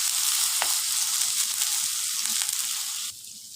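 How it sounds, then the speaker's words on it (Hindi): Chana dal roasting in melted ghee in a pan gives a steady, close sizzle with a few scraping stir strokes, then the frying drops noticeably quieter near the end. "घी में हमने इसे अच्छे से भून लेना"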